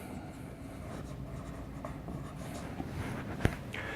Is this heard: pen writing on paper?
yes